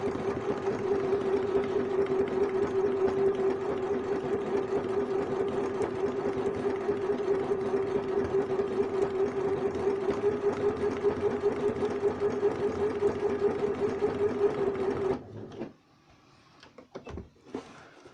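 A sewing machine stitching appliqué runs steadily for about fifteen seconds with a fast, even motor whir, close up, then stops abruptly, leaving a few faint handling clicks.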